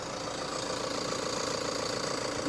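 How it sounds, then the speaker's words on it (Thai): A Toyota Commuter van with a 3.0-litre diesel engine idles steadily and evenly up close, a continuous low rumble with a faint knocking texture and no voices. "เดี๋ยวผมให้ฟังเสียงเครื่องยนต์เดินสักครู่ครับ"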